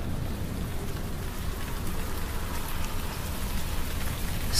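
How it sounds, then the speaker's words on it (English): Steady rain falling in an audio drama about King Arthur's last battle, a dense, even hiss of drops pattering on surfaces, continuous and fairly loud with no speech. "And then it rains."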